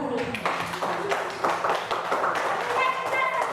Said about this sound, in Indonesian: kita tepuk tangan dulu buat diri kita sendiri